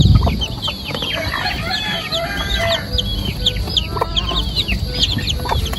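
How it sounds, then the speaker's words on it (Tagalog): Many chickens cluck steadily around a fish pond farm, with repeated clucks and calls from several birds overlapping at close to middle distance. No one speaks. "napakakarami na po ditong mga manok"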